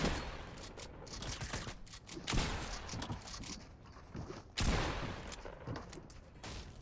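Rapid bursts of Fortnite gunfire crackle in repeated volleys, loud and close, with sharp louder shots standing out among the fusillade and no talk over it.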